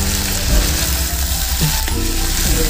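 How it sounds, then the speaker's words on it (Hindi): Potatoes added to lightly cooked onions frying in a pan, a steady close sizzle with a few scraping stirs of a spoon. "ये देखिए प्याज हल्की सी होती है, फिर आलू डाल देते हैं।"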